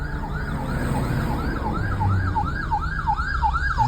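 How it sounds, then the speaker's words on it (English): A passing ambulance siren on a street gives a steady, rapidly repeating wail that rises and falls in even cycles, loud and close over traffic rumble. "Here comes the ambulance."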